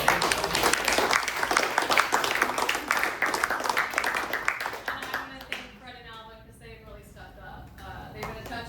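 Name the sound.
high school students applauding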